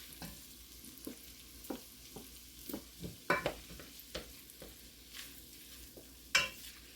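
Shredded barbecue chicken being mixed in a pan, soft sizzling under repeated scraping and clanking strokes of a utensil at irregular intervals, close by, with no speech.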